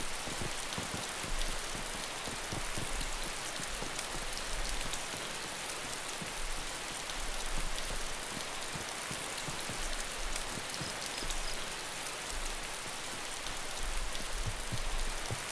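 Rain falls in a forest in the video game DayZ, a continuous, even hiss of raindrops that stays at a steady moderate level throughout.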